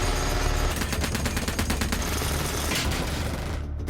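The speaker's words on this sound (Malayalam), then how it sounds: "ആന്റണി തുടർച്ചയായി ബുള്ളറ്റ് പ്രൂഫ് ഡോറിലേക്ക് വെടിയുതിർത്തു." Gunfire from the 2021 film Copshop is fired continuously at a bulletproof door, heard as a loud, rapid, dense burst of shots mixed into the film soundtrack.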